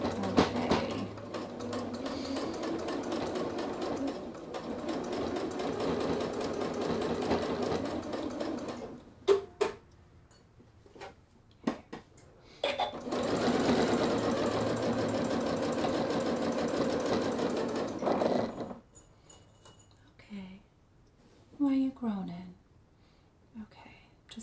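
Sewing machine with a twin needle stitching a kangaroo pocket onto a sweatshirt, running in two steady sustained bursts separated by a pause with handling clicks, with soft talk in between.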